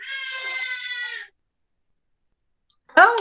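Helena, a young girl, lets out a loud, sustained high-pitched scream that cuts off into silence, followed by a brief sharp vocal burst.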